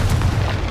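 A Confringo spell explosion in Hogwarts Legacy on Xbox Series X, a short, heavy booming burst with a deep low rumble, loud and close.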